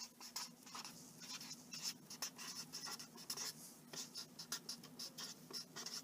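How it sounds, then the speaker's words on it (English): Chalk or marker writing on a board during a math lesson on the Pythagorean theorem, a faint, quick series of scratchy taps and strokes in short bursts, no speech. "So I'll write that there."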